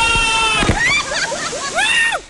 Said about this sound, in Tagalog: Pagtalon mo, tapos bagsak mo sa tubig, naramdaman mo yung lamig